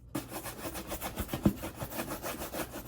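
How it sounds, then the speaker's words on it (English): Horsehair brush scrubbing a leather cowboy boot in quick, rhythmic back-and-forth strokes, steady and close, with no talk. "For this boot, I'm just gonna use a little horsehair brush."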